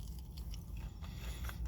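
Close, crisp crunching and chewing on a small KFC fried chicken wing with classic fast-food breading, a steady run of bites under a low background hum.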